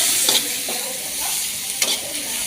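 Cabbage and onions fry in a pan with a steady close sizzle, a few clinks and scrapes of a utensil as they are stirred slowly, no speech.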